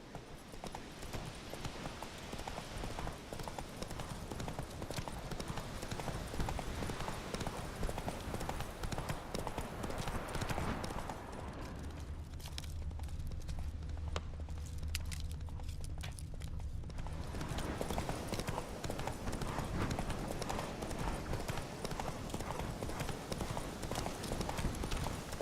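Roach the horse gallops in The Witcher 3: Wild Hunt, hooves clip-clopping in a steady, continuous rhythm throughout, loud and close, with ambient game sound briefly shifting midway.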